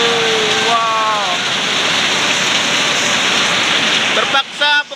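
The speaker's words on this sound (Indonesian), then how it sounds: "hujan sangat lebat di kampung kami" Heavy rain pours down over a village in a steady, loud, dense roar that covers everything, and a voice speaks briefly near the start and again at the end.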